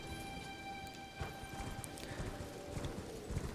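Horse hooves clip-clopping in the video game Elden Ring, a quick, even run of soft hoofbeats over a faint steady background hum.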